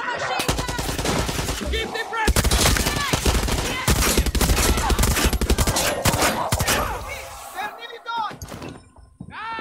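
Sustained machine gun fire in the video game Far Cry 6: loud, dense rattling bursts with brief gaps, overlapping with excited talking from players and game characters.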